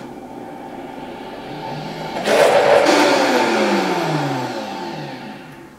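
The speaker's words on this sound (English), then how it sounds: "I will let it spin and fold towards the middle because it's a centrifugal motion in the Vitamix and the Blendtec" A Vitamix high-speed blender spinning mango pudding, its motor whirring low at first, then surging loudly halfway through into a strong roaring spin that slowly winds down in pitch.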